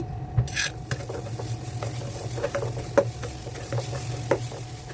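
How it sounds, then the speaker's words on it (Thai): Steady sizzling of food frying in hot oil, with scattered sharp clinks and scrapes of a utensil stirring in a pan. "ใส่พริกกระเทียมลงไปผัดให้หอม"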